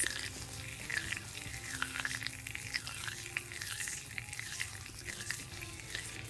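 Squishy Pure Grace body mousse foam fizzes and crinkles up close, a continuous soft crackle with small irregular pops over several seconds and no voices.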